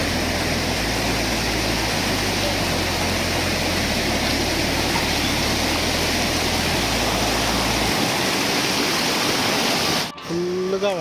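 Loud, steady roar of the Talakona waterfall near Tirupati, swollen by a storm, fills the whole clip, broad and continuous, with a low rumble underneath and a brief dip near the end.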